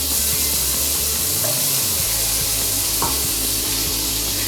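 Garlic and onions sizzle steadily in a hot pan, a dense continuous frying hiss with occasional stirring scrapes close by, no voices.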